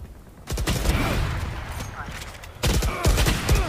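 Pistol gunfire in the video game Valorant: loud, sharp shots in two clusters with a brief gap between them, alongside in-game clatter and a voice talking.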